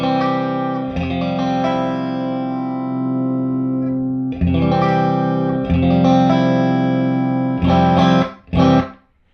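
An electric guitar plays through a 40-watt Matchless Chieftain tube amplifier to show off its bass control, with sustained, full, warm chords ringing for several seconds each, then a few short choppy strums at the end, loud and close, with no talking.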